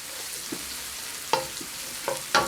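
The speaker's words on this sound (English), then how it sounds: "We're gonna add about an 1/8 teaspoon of crushed chilies or red pepper flakes." Crushed red chili flakes dropping into a pan for a vegan courgette noodle dish, giving a soft, low sizzle broken by a few sharp clinks of a utensil against the pan near the end.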